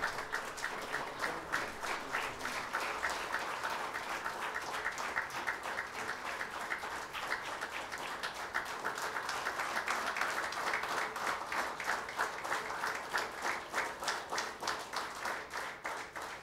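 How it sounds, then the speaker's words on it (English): A large audience at a formal India-Japan relations event rises and gives sustained, dense applause that stays steady and loud from start to finish, with no talking over it. "I would request all of you to please rise, giving a thunderous applause"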